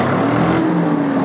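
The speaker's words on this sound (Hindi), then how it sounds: "इस ट्रैक्टर को अब हम चालू करेंगे" A 55 hp tractor engine starting up and running, a loud close mechanical roar that settles into a steady idle hum with a constant low tone, no voices over it.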